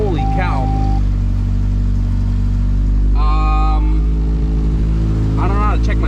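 A Honda CRX swapped with a rebuilt junkyard K24A2 engine runs loud and steady just after its first start, a heavy constant drone with voices talking over it in short bursts.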